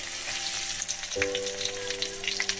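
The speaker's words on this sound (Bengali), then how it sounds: "এর সঙ্গে বেশ সুন্দর করে ভেজে নেব রসুনগুলো মশলার সঙ্গে" Boiled garlic cloves frying with spices in oil for a winter garlic pickle, a steady close sizzle with soft crackles and faint stirring throughout, no voices.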